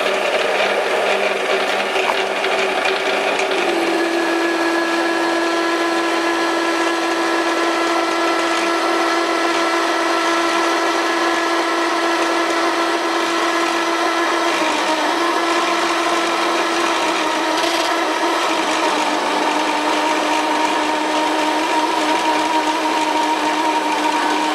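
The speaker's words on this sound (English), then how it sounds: "Drill starts to rotate in the tailstock taper." Metal lathe running at 210 RPM while drilling, the drill spinning in the tailstock taper, a loud steady whine with shifting tones and grinding, no talking.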